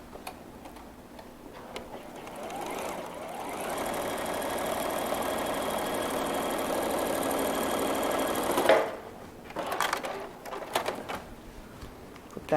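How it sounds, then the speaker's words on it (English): A sewing machine stitches a bowtie quilt block, its needle chattering in a fast, steady run for several seconds before stopping, followed by a few short bursts of stitching and handling noises. "let's bring it over the machine and we will sew"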